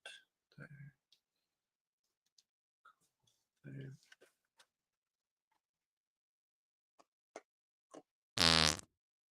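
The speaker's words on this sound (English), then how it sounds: "I can hear the fart sound effect." A single loud, buzzy fart sound effect bursts out near the end of a live stream, after sparse, quiet talk and scattered soft clicks.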